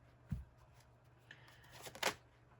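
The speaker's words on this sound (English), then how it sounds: "I'm not done shuffling yet, but okay." Tarot cards being shuffled by hand, a soft papery riffle and slide with a couple of brief flicks, faint and close in a quiet room.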